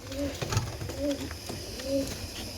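Three soft, low pigeon coos repeat at an even pace, close by, over faint background noise.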